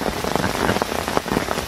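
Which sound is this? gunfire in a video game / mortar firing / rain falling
rain falling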